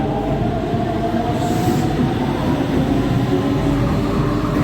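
A Cairo metro train at Cairo University station makes a loud, steady rumble of rolling wheels and carriage noise, with a faint high squeal partway through and no talking.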